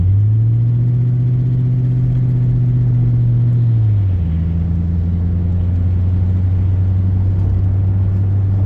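A rumbling engine while driving uphill behind a slow car, a loud, steady low drone that shifts pitch downward partway through, as if changing gear, then holds a deep even hum.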